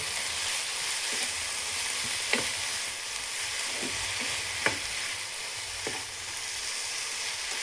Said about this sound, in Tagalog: Tapos haluin ulit natin